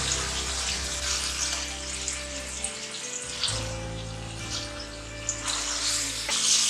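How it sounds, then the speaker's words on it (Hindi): Steady sizzling and crackling of fish frying in a pan, loud and close, with a continuous hiss and no voices. "फिश को फ्राई करेंगे।"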